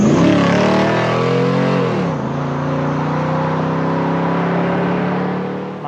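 The 6.0-litre V8 of a stock 2003 Chevrolet Silverado SS truck with a 4L60 transmission roars loudly and close, its pitch sweeping up and then dipping before settling into a steady, sustained drone.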